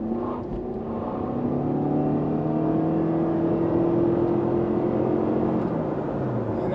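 A Toyota RAV4 Prime plug-in hybrid launches from 0 to 60 with its wheels spinning for traction, its engine and motor whir climbing steadily in pitch, loud and sustained throughout with no talk.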